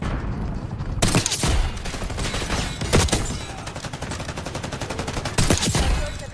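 LR 7.62 sniper rifle shots boom in the Black Ops 6 beta, three loud cracks spaced a couple of seconds apart over a constant bed of battle noise.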